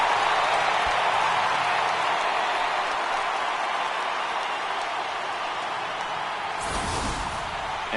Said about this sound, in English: the home crowd has really come to life here in the bottom of the 8th